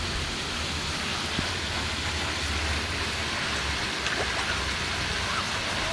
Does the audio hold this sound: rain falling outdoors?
yes